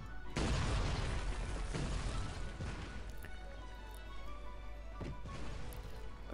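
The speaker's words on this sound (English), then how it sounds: "He's already firing at me with mortars again." Mortar fire and explosions in the strategy game Cossacks 3: a heavy boom opens with a deep rumbling blast, followed by several further thuds and crashes. A sustained low hum sits underneath throughout.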